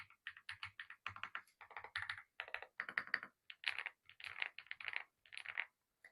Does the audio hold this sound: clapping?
no